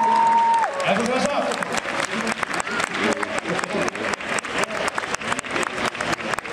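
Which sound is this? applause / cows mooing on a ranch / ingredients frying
applause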